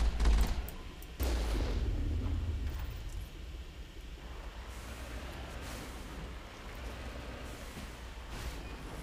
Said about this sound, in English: Yep, I figured there was going to be a rocket turret here.